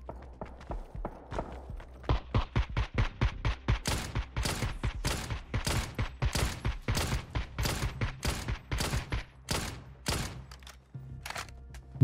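Rapid gunfire in PUBG on the Miramar map from Beryl and Dragunov rifles, a long string of sharp, evenly spaced close shots cracking in steady rhythm, with a few quieter pauses and faint background noise.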